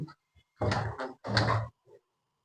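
A wardrobe (almirah) door opening in a budget hotel room near Murshidabad: a short creaking, groaning hinge sound in two close strained pulses, with a small click just before and after.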